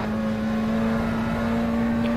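A steady, droning engine tone with a sustained whine from a McLaren Senna GTR and other race cars at COTA in rFactor 2, loud and unbroken throughout.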